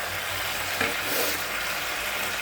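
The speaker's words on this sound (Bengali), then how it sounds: "তো আমি এখন এই ভেজে রাখা ফুলকপিটা দিয়ে দেবো" Fried cauliflower with onions and spices sizzles softly in a pan as it is stir-fried, with a low steady crackle and a brief stirring scrape.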